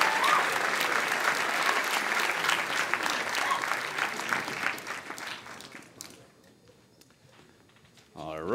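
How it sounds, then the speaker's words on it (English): Applause for senior scholarship winners at a high school band banquet, a full room clapping loudly and steadily, then tapering off and fading to near quiet before a brief sound at the very end. "Please give one more round of applause to all of our senior scholarship winners."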